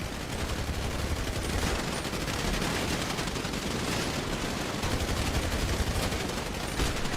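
Gunfire crackles in a multiplayer shooter video game: dense, continuous bursts of rapid shots overlap in a harsh, fairly quiet wash without a break, and no one speaks over it.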